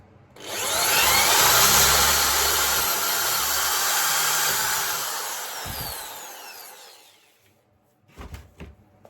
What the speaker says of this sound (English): So, yeah, I'm just going to sand it.